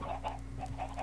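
Minecraft chickens clucking in a short burst of repeated soft clucks over a steady low in-game hum, fairly close and moderate in level.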